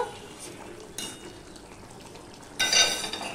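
Vegetarian giant taro (manakchu) curry simmering in a pan over low to medium heat, with a faint steady bubbling and clatter that swells into a brighter burst of sizzle and stirring near the end.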